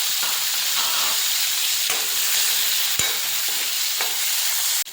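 Bombil, Bombay duck fish, fry in oil in a kadhai with a loud, steady, close sizzle and hiss that runs throughout, with occasional stirring knocks.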